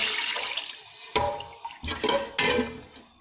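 Water splashes and pours into a cooking pan in uneven bursts, running and gurgling for a few seconds with brief pauses between gushes.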